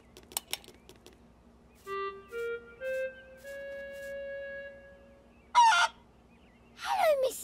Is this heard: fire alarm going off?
no